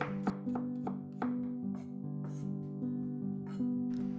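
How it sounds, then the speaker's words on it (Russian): Sharp knife taps on a cutting board as garlic is finely chopped, a quick irregular run of chops over a steady sizzling hum from onions frying in a pan. "измельчим чеснок, порубим его помельче"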